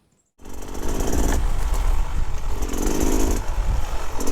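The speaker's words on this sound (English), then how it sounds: "first ride on our 2024 Beta Cross Trainer Greta" A 2024 Beta Xtrainer 300 two-stroke dirt bike engine fires up abruptly after a moment of silence, then buzzes loud and close with a raspy, pulsing drone that rises and falls as the throttle shifts.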